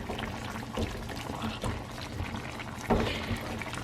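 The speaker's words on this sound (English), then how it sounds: "I'm gonna put about 1/4 cup of water to loosen it up so then it has a little bit more fluid to cook this chicken" About a quarter cup of water is poured into a pot of Kerala-style chicken curry, a soft trickling and splashing heard close amid light kitchen clatter.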